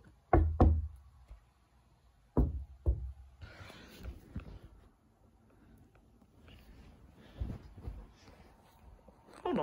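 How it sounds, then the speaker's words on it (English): Knocking on a door or wall during a game of hide and seek in Colorado: two quick double knocks near and loud, followed by fainter rustling and a few softer knocks. "Knock if you can hear me."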